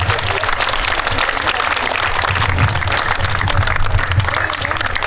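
Applause from the audience at the inauguration of a school, a steady dense clapping that fills the whole stretch at close range with no breaks.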